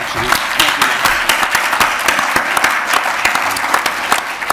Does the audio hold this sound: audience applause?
yes